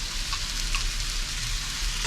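Vegetables sizzle loudly in a hot pan as oyster sauce is added, giving a steady close frying hiss with faint stirring clatter.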